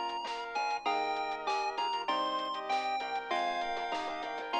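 A smartphone ringtone from the Steins;Gate 0 visual novel plays a bright, steady electronic melody of repeating note phrases at moderate level, with no talking over it.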